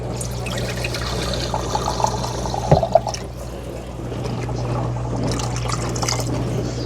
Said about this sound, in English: I think I am going to add 1/2 cup more of liquid.